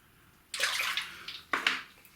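Water from a tap splashes in two short bursts as a razor and soap are rinsed under the running stream, close and fairly loud, with quiet pauses between.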